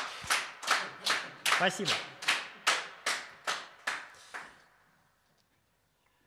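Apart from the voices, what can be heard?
small audience applauding at a house concert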